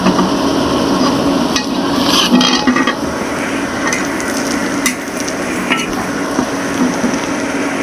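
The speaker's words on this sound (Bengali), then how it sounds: "এবারে আমি দিলাম মুগের ডাউল ভাজার জন্য।" Mung dal fries in a pan with garlic, green chillies and onion: a continuous sizzle under busy stirring, with scraping and light metallic clatter throughout.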